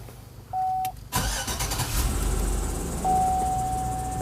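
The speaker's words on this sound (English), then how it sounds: "So now we're gonna start the vehicle." A car engine cranks and catches after an electrical fuse reset, preceded by a warning chime, then settles into a steady idle while a tone sounds again.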